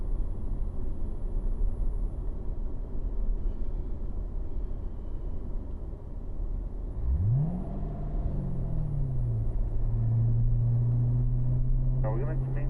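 Steady low engine rumble of a Corvette cruising a cool-down lap in fourth gear, with a rising then settling tone as it pulls along, heard continuously beneath ongoing talk.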